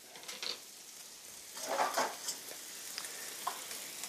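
Meat fillet stir-frying in a hot pan sizzles steadily while a utensil stirs and scrapes, with occasional light clinks of metal against the pan.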